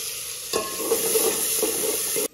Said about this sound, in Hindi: ये मैंने डाल दिया प्याज।